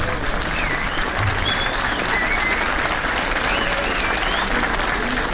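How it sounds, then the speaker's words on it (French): A crowd at the Balade 1001 Virages gathering in Saint-Claude applauds the organizers of the Exocet club, steady dense clapping throughout with whistles and voices rising over it. "je vous demande d'applaudir les organisateurs."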